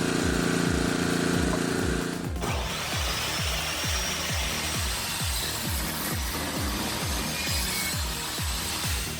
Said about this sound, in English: This homemade circular saw changes everything.